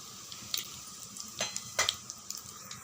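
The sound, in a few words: mustard seeds and spices spluttering in hot oil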